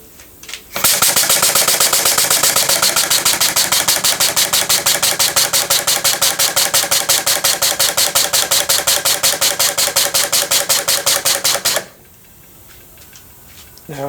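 A homemade steam engine runs unbalanced, making a loud, rapid, steady chuffing and knocking beat for about eleven seconds before abruptly stopping, with quiet handling noises around it.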